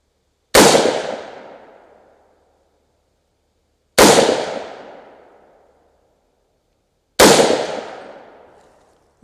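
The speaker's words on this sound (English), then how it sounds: "I'm just gonna shoot one last group." Three loud, sharp gunshots from a 300 Blackout rifle fired at a range, each a sudden crack trailing off over about a second and a half, spaced roughly three seconds apart with silence between.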